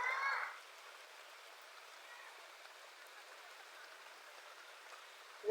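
Steady rain falls and hisses evenly on surfaces outdoors, a soft continuous wash that runs alone after a brief louder burst at the start.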